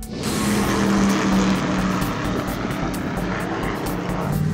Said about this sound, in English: I can't believe I'm driving a real race car!